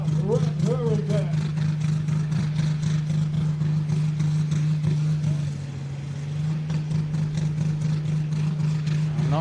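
The Red Hurricane pulling tractor's engine drones in a loud, steady low idle at a tractor pulling championship in Edewecht, easing slightly midway, while people talk over it.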